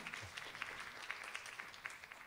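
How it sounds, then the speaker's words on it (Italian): Audience applause at a school film gala, a steady patter of clapping from a crowd that holds evenly for a couple of seconds at moderate distance. "applauso giustissimo, non volevo interromperlo"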